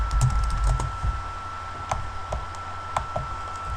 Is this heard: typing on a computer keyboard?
yes